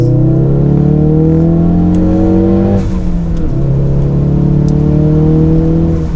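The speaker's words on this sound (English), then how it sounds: "So in second gear, we'll get moving, see how a second gear pull does." A Ford Focus RS pulls hard in second gear, its engine note climbing steadily up close, briefly dipping at a shift, then rising again with a loud, continuous whir.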